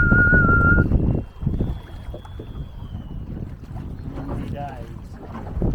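Fishing lines hum and whistle thinly in the wind on a boat off the Suffolk coast while fishing for smooth hound, a high tone that wavers over rumbling wind noise and water.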